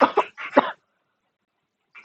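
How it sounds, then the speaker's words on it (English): A person coughing, a quick burst of two or three close, loud coughs, a pause of silence, then another cough starting at the end. "I was coughing."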